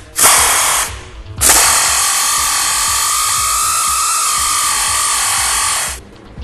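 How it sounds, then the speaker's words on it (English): A loud, close power tool runs in two bursts, a brief spin then a long steady whir of about four and a half seconds, while removing the front bolts from the primary exhaust pipe on a Ford F350 big-block. "remove our two front bolts that go to the primary pipe"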